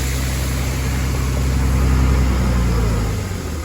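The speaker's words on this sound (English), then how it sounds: "I haven't shut the tractor down." A tractor engine runs during a 2020 corn harvest, a loud, steady mid-range drone with a constant low rumble that swells slightly and then eases near the end, with no one talking.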